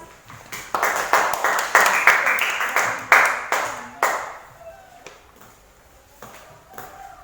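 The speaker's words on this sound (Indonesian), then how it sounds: "Beri tepuk tangan dulu untuk kelompok 1." Classroom of students clapping for group 1 during a teaching practice lesson, a fairly loud burst of hand claps that builds, peaks and then thins out to a few scattered claps and quiet.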